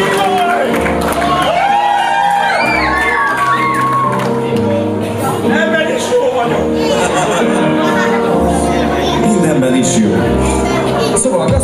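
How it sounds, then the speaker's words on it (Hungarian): A live crowd cheers and whoops loudly for a drummer about to play a song, a sustained roar of shouts and calls with people talking over it. "Ne tapsal, kérem, biztassuk a Tibit!"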